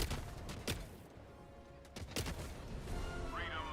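Sharp bursts of gunfire crack through a noisy, dense Helldivers soundscape, with a few louder shots standing out against the background din.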